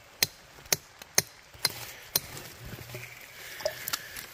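A hammer chips pieces off zinc-bearing rock with sphalerite banding at the Battery Ridge zinc showing, about nine sharp close taps spaced roughly half a second apart, with quieter scraping between.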